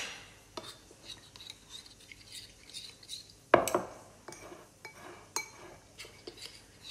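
Ingredients for Savoyard fondue being stirred together in a bowl, with soft clinks and scrapes of a utensil against the dish, one sharper knock midway, then steady light tapping, all fairly close and unhurried.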